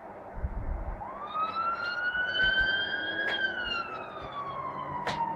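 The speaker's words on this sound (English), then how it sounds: "It's a fire engine." A fire engine siren wails in a rising and falling sweep, loud and passing close by, with road and traffic noise beneath it.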